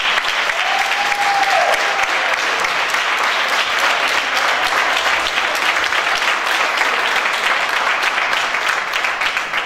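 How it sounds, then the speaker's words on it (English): Audience at a school board meeting applauding paraprofessionals and staff, sustained dense clapping from a roomful of people, steady and fairly loud throughout. "can you please stand so we can give you a big round of applause"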